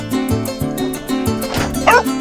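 Foxhound and beagle hunting dogs bark and yelp during a boar hunt, a rapid series of close, overlapping bays and yips in a steady rhythm with a brief whimper near the end.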